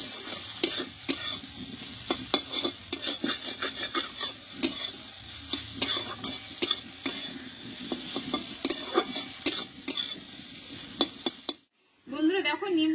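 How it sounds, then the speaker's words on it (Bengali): Neem flowers and potato fry in plenty of oil and are stirred steadily, giving a loud close sizzle with frequent sharp scraping and clinking strokes of the spatula against the pan; the sound cuts off briefly near the end. "বেশি করে একটু তেল দিয়ে কিন্তু এটা ভেজে নিতে হবে"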